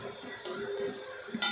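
A spatula stirs fried green chilli, coconut, garlic and salt in a pan for gawar sukhi bhaji, with a soft sizzle and light scraping, ending in a brief metallic clink.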